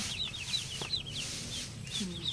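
Newly bought pet ducks give repeated high, thin peeping calls in quick irregular bursts over a low rustling background, close by.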